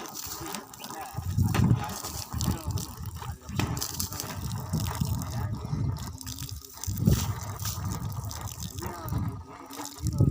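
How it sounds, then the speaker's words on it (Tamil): Water gushes continuously from borewell pipes driven by a 7.5 HP three-head compressor pump, drawing from three bores: a steady, rough outdoor splashing rush with low surges, heard up close and fairly faint overall. "தண்ணி நிற்காம வந்துட்டு இருக்கு பாருங்க."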